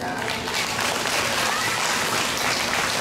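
Audience applause at an outdoor traditional Korean tightrope-walking (jultagi) show, a dense steady wash of clapping holding at an even, fairly loud level throughout, with faint voices mixed in.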